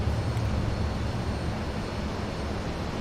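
A Grumman F-14A Tomcat jet in a flight simulator runs at full power, a dense, loud, steady engine roar with a broad rumbling low end and no voices over it.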